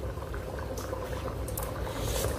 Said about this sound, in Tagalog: grabe po ang kulo niya